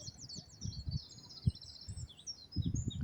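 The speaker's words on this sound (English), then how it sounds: "And the bird song has changed. It's so loud now and so welcoming." Spring birdsong along Hadrian's Wall: several birds chirp and trill continuously, fairly close and clear, over faint low rustling or footsteps, with no one talking.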